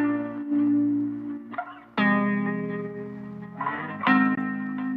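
A beat made in Logic Pro X plays with an automated reverb bus send, loud tonal synth chords in three phrases with reverberant tails and swells, with no voices.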